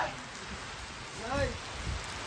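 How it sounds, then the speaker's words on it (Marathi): Steady heavy rain hisses throughout, heard while travelling in a vehicle, with a voice briefly audible partway through. "मजबूत पाऊस आलाय"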